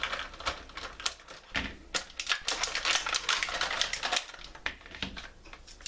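Scissors cut old and new He-Man action figures out of their tightly strapped plastic retail packaging, giving a close, busy run of rapid clicks, snips and crinkles with no voices.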